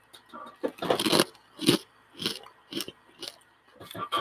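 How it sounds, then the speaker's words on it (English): Close-up crunching of a very crunchy spicy snack being eaten right at the microphone, a run of loud bites and chews in irregular bursts with short pauses between them. "How will that pick up the crunch?"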